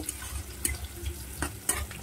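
Fish oil frying in a pan in a home kitchen, giving a low steady sizzle with a few sharp clinks and scrapes of a utensil, fairly quiet and with no voices.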